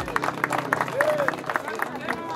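Applause breaks out for a trophy winner at a motocross championship prize ceremony in Formosa, a steady patter of clapping from a modest crowd under a murmur of voices.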